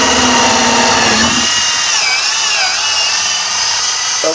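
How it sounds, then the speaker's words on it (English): Power drill boring into wood at an angle, a steady loud whine that holds throughout with a slight pitch wobble midway as the bit bites deeper; close and continuous with no talk. "I'm drilling on an angle of the dangle so I can get in a little deeper."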